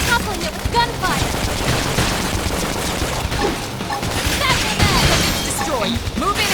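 Gunfire from a mech-and-combat battle in Xenoblade Chronicles X rattles in dense bursts with crashes and booms, layered over continuous game action and effects.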